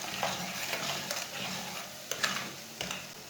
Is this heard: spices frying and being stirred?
yes